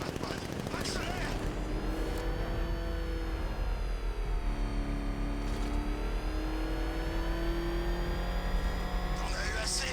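The Batmobile in the video game Batman: Arkham Knight accelerates with a loud, sustained engine roar that climbs and shifts pitch, with game sound effects and voices layered over it.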